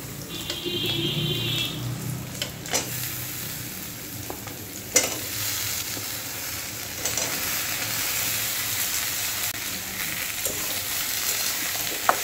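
Cut brinjal and taro frying in a pan with browned onions, with a continuous close sizzle broken by scattered spatula scrapes and knocks against the pan.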